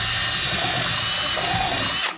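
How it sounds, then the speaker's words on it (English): Power drill with a small bit boring through a plastic wall box before going into the wall, a steady loud whine running continuously and stopping at the end. "So we're gonna drill through right now."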